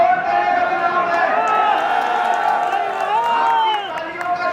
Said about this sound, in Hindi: आपकी तालियों का शोर उधर वालों के हौसले पस्त करेगा